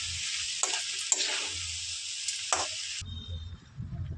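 Tomato rice with coriander and mint is stirred in a pan, a bright sizzle with a few scraping strokes for about three seconds before it cuts off to quieter low kitchen noise.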